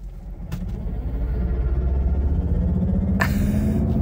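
A 2023 Mercedes-EQ EQS 450+ electric car pulls away hard from a standstill, a low steady rumble of road and cabin noise building gradually as it accelerates, with a brief higher whoosh near the end.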